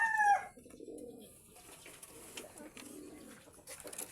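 Pigeons give several soft, throaty coos in a close, quiet setting, with low murmuring calls repeating every second or so. A brief brighter chirp comes at the very start.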